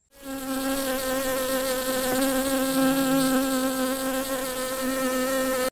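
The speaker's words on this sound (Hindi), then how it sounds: "जब मधुमक्खियाँ उड़ती है तो कुछ इस तरह का आवाज़ सुनाई देता है" Honeybees in flight give a loud, continuous droning buzz with a strong steady pitch and rich overtones, sustained evenly for several seconds after a quick onset.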